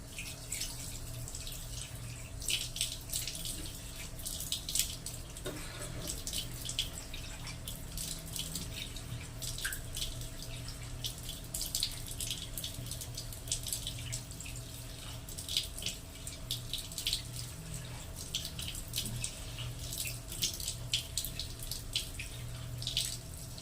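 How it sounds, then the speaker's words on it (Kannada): A bathroom tap runs steadily for the whole stretch as someone washes their face, with uneven splashing and dripping from hands and water hitting the basin, close and fairly quiet. "ಓಕೆ, ಇವಾಗ ವಾಶ್ ಮಾಡೋಣ."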